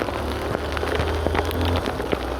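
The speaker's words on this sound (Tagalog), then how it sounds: "Wow, ang lakas ng ulan." Heavy rain pounding steadily outdoors at a flooded street in Caloocan, a dense, loud, continuous wash of drops with occasional sharper splats and no voices.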